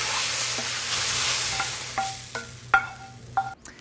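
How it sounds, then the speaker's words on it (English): Mushrooms being stirred around a frying pan, with a soft sizzle at first, then a few distinct scrapes and clinks of the utensil against the pan before it goes quiet. "a little stir around the pan"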